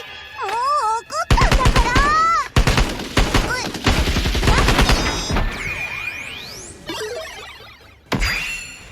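Rifle fire from an EX skill in the Blue Archive video game, bursts of sharp game gunshots mixed with music and effects, loud and close, with brief gaps between volleys.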